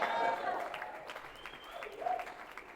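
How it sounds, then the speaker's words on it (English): An audience applauds at a restaurant's official opening, a short burst of clapping and cheering mixed with voices in a crowded room. "I need a round of applause for that."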